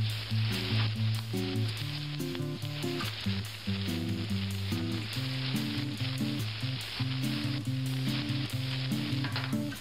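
Salted onions sizzle steadily in a hot pan while being fried for beef or pork enchiladas, a loud continuous crackle with occasional stirring and no talking.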